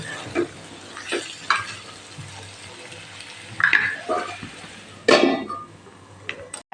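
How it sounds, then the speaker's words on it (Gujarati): Kathiyawadi farali finger chips sabzi stirred and mixed in a pan, with scattered scraping strokes and soft clinks over a quiet background hiss of frying, two louder bursts of stirring toward the end. "આ બધું સરસ મિક્સ કરી અને બે મિનિટ આપણે આને થવા દઈશું"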